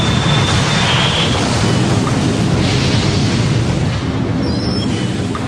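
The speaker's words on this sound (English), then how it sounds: "The rocket fuel burns with tremendous force, and as it thrusts down, it pushes the rocket up." A conventional rocket engine fires at full thrust, producing a continuous, dense, loud roar that stays steady and overwhelming throughout.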